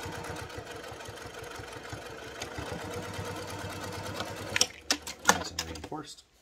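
Sewing machine stitching a postpartum pad, a rapid mechanical chatter running steadily for several seconds, then a few sharp clacks and bumps before stopping.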